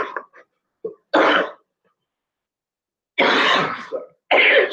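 A person coughs and clears their throat in a few separate harsh bursts with silent gaps between them, close and loud.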